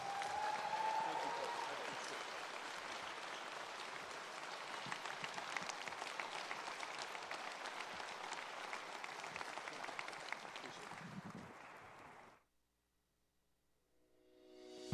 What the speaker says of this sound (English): please big round of applause for Mr.